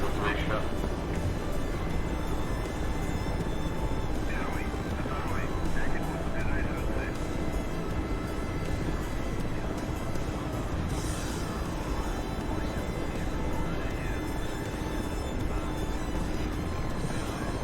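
A helicopter hovers high in the DCS flight simulator game, its engine and rotor making a steady, dense drone throughout, with a voice talking over it.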